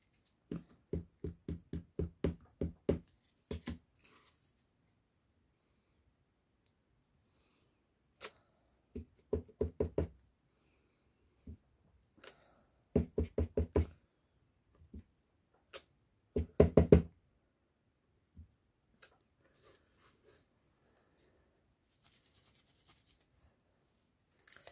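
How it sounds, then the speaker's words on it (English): Stamping a design onto paper for a craft project, heard as quick bursts of close, dull tapping knocks in short rhythmic runs, separated by quiet pauses and a few single taps. "Right, so that's all the stamping"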